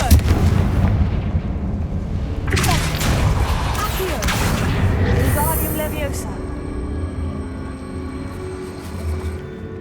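Confringo fire spell blasts in the Hogwarts Legacy video game: heavy booming explosions with crackling debris, a second big burst midway, then a fading rumble and ringing tail, with speech mixed in.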